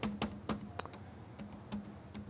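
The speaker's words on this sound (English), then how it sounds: "probably the simplest way to do it is just type your frequency up here." Sparse keystrokes on a computer keyboard while a radio frequency is entered into DMR codeplug programming software: a handful of close, crisp clicks in an uneven rhythm, with short pauses between them.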